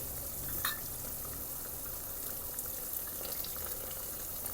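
Cornflour slurry is poured into a simmering meatball stew, producing a soft, low bubbling and liquid splash with a brief pouring trickle early on, quiet and without talk.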